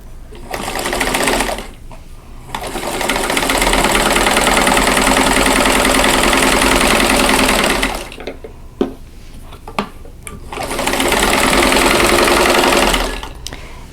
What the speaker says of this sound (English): I'm going to sew right on that drawn line